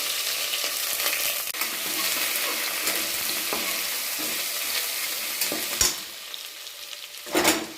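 Whole spices (cinnamon, cloves, cardamom, bay leaf, star anise, marathi moggu) with ginger and garlic sizzle and fry in ghee for a biryani, a steady close crackle with a few stirring scrapes and a louder stir near the end.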